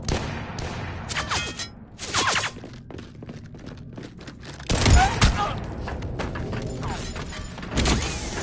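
Gunfire in a sci-fi shooter video game, bursts of shots and thuds cutting in among mechanical clatter, with a loud cluster near the middle and another near the end, while voices talk over parts of it.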